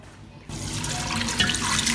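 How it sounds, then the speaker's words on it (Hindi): Water pours into a cooking pot holding beef, whole black pepper and salt for beef yakhni pulao, a steady splashing trickle that starts abruptly after a brief quiet moment and continues close and fairly loud. "हस्बे ज़रूरत ऐड करते हैं पानी"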